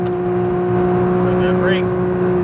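Porsche 992 GT3 on track at Speed Vegas, a loud sustained engine drone heard from the cabin with a steady tonal whine throughout, holding high revs over a short stretch.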